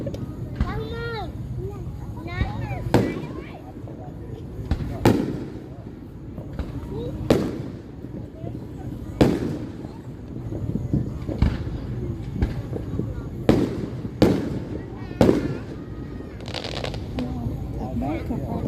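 Fourth of July fireworks show: sharp bangs burst repeatedly at irregular intervals, some loud and close, over a steady crowd murmur with people chatting and calling out throughout.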